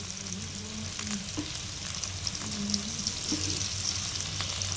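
Dried fish frying in a pan gives off a continuous close sizzle and crackle, with a few soft scraping touches as the pieces are turned.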